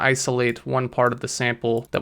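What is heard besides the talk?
No everyday noises stand out.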